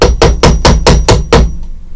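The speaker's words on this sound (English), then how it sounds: "Now you can use a hammer for this if you'd like." Six steady hammer taps on a wooden guitar neck during shaping, sharp and close, evenly spaced at about four per second, then the ringing fades away.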